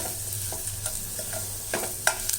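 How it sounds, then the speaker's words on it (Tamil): Garlic rasam ingredients fry lightly in oil while being stirred, giving a steady soft sizzle with scraping stirs and small clicks, close and alone without talk. "இதை நல்லா லைட்டாக வறுத்துக்கலாம் இந்த எண்ணெயிலேயே"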